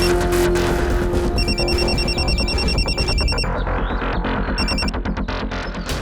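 Telephone ringback tone on an outgoing call, a repeating electronic ring heard in bursts over a loud, dense dramatic music bed.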